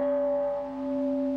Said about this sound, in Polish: Dziś w Warszawie na Mokotowie w okolicy Skoczni po raz pierwszy zabrzmiał dzwon pokoju.